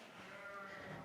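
Sheep bleat in farm pens, one drawn-out wavering call held across the short moment at moderate distance, without any talking over it.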